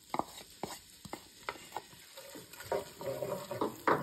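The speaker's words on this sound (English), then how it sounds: "Starting to sizzle a little." Half a large onion sizzles in a frying pan while cheesy broccoli soup cooks, with soft crackling, stirring scrapes and occasional clinks close by, no talk.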